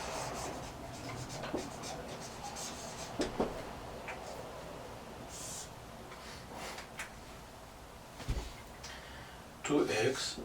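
Chalk or marker scratches out math on a board in short bursts of strokes and taps, fairly quiet, with a voice talking at times.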